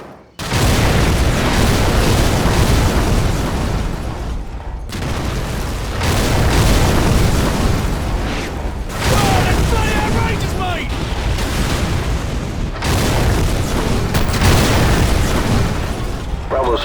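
Danger-close artillery shells hit in the Call of Duty 4 Modern Warfare mission Hunted, with heavy booms landing about every four seconds, each followed by a long rolling rumble and debris that keeps the blasts loud and continuous.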